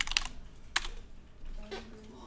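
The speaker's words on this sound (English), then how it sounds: "if I just go to Google and type in snow texture" Fingers tap out a short burst on a computer keyboard, a few quick clicks followed by a pause and then another light cluster of keystrokes, close and fairly quiet.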